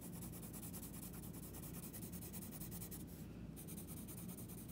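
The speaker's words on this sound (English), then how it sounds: "I'm going to start off by making some marks on my paper to practice blending." Pencil strokes on paper, a faint, steady scratchy rubbing that continues throughout, close and quiet with no voice.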